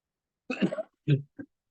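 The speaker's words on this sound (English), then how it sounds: "because I have a cough" A few short throaty coughs close by, a longer burst followed by two quicker ones, with silence between them.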